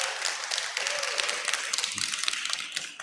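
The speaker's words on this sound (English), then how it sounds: "You can give him more of a round of applause." An audience at a business forum gives a round of applause, with dense, steady clapping from many hands that fills the room and tapers slightly at the very end.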